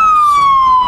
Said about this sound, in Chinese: 有警车。